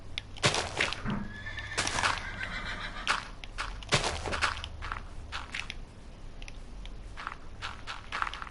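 Horse in the video game Minecraft gives several loud, close whinnies amid scattered hoof clip-clops and crunchy clicks, with no talking over them.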